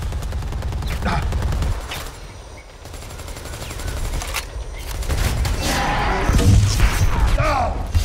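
Rapid bursts of gunfire from the video game Predator: Hunting Grounds, dense and loud for most of the stretch, with shouted voices mixed in over the shooting.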